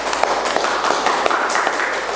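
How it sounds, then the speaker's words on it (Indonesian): Classroom applause for student groups after their poetry presentations in an Indonesian language lesson, a dense crackle of many hands clapping at once, steady and fairly loud for a couple of seconds. "tepuk tangan untuk semuanya"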